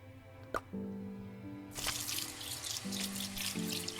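Clean water trickles and drips into a container in the video game Undying, a soft close pour with a brief splash near the start.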